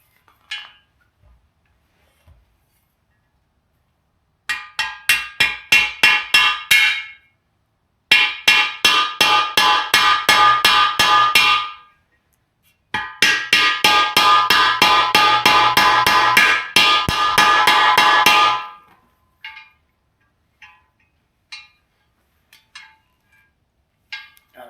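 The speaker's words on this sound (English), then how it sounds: "And then just hammer it down until it touches." Rapid metallic hammer strikes drive a bearing into a 2009 Harley-Davidson swing arm using a driver, loud and close, in three long bursts of quick regular blows separated by short pauses, then a few scattered single taps.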